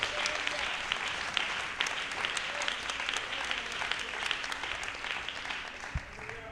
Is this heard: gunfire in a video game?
no